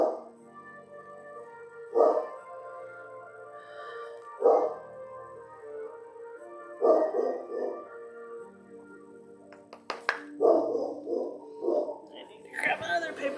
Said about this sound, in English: now it is definitely time to bark at all of the neighbors